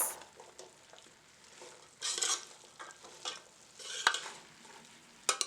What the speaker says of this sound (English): Give it a nice mix.